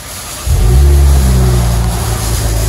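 A 2012 Chevy Camaro V6 with a Flowmaster 40 Series dual exhaust starts up loud and close after a brief quiet moment, then holds a deep, steady rumbling rev that eases slightly toward the end.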